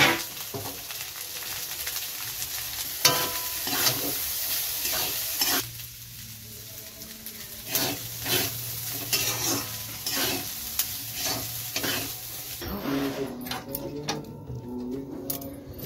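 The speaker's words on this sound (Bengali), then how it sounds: "ভাতটা দিয়ে জাস্ট নেড়ে নামিয়ে নেব" A spatula scrapes and stirs repeatedly through rice and fried potatoes in a frying pan, with a steady sizzle underneath and a few sharper clacks near the end.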